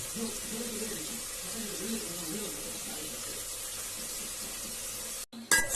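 Goat blood poured into a pan of frying onions on a home stove, giving a steady bright sizzle that carries on evenly before a brief cut, with some voices faintly underneath.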